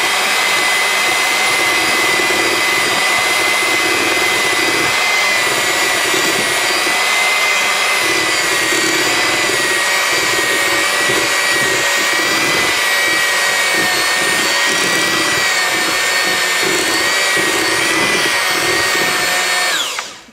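An electric mixer runs steadily on low speed, beating powdered sugar and vanilla into a thick pumpkin bar frosting, a continuous loud motor whine that holds for about twenty seconds before cutting off at the end.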